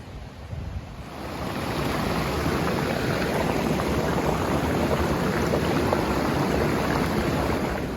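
Strong wind roars continuously into the microphone in Sedona, Arizona, a loud rumbling buffeting that builds after the first second and stays steady.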